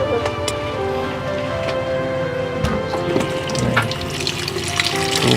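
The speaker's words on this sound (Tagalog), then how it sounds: "Tubig." Water runs steadily as though from a tap or pipe, a continuous splashing wash at close range with faint tonal background sounds and no clear speech.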